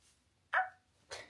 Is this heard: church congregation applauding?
no